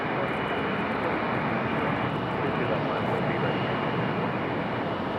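An Aeromexico airliner's engines roar in a steady, dense wash during pushback at Raleigh-Durham International Airport, loud and unbroken throughout.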